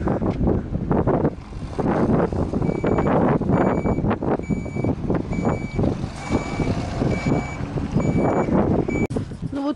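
A semi-trailer truck reversing on a road sounds a loud, regular series of electronic backup beeps over its rumbling engine, with wind buffeting the microphone.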